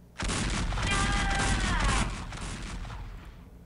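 Gunfire in the video game XCOM: Enemy Unknown, a sudden loud burst of rapid shots with a booming, rumbling body lasting about two seconds, then a fading tail.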